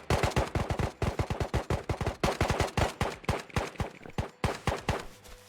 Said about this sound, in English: it sounds like there's a lot of shooting going on here